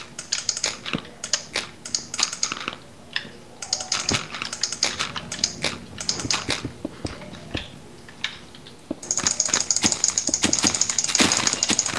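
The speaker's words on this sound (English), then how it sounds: "Stop clicking your mouse so fucking loud" Rapid, loud computer mouse and keyboard clicks rattle through the whole stretch during a Minecraft session, sharp close clicks in uneven bursts that grow denser toward the end, with faint talk in the background.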